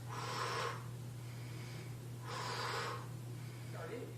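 Two forceful exhales during a weightlifting workout, sharp breathy bursts spaced about two seconds apart over a low steady hum, with a faint third breath near the end.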